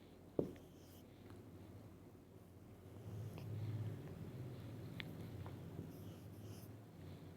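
A pen or pencil scratches softly across paper while a fraction is written out by hand, faint and close against a low background hum, with a sharp tap at the start and a few small ticks along the way.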